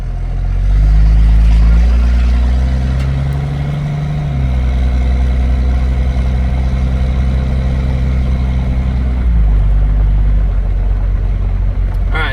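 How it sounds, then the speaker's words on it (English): A swapped 6.7 Cummins diesel in a Mega Cab truck runs loud and close, a deep steady drone with a faint higher turbo whine riding over it, shifting pitch slightly as the engine load changes. "You can hear the turbo."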